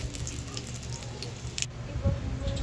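Pork lechon kawali, a Filipino deep-fried pork belly, sizzling in hot oil during its third frying at home, with a steady close crackle and spattering alone.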